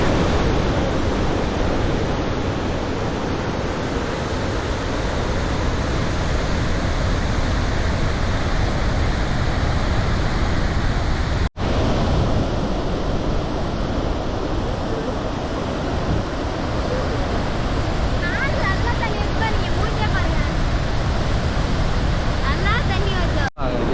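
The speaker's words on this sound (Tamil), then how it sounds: "ஒரு செகண்ட்க்கு 200 பாத் டப்ஸை ஃபில் பண்ண தேவையான தண்ணி இந்த ஒரு கேப்ல விழுது." Powerful waterfall on the Nile River in Africa, a massive volume of water crashing down through a narrow gap, producing a loud, unbroken roar of rushing water close by, steady and broadband for the whole stretch.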